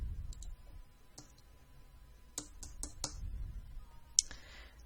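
Scattered keystrokes on a computer keyboard entering an office address, a few isolated clicks then a short quick burst, close and fairly quiet over faint room hum.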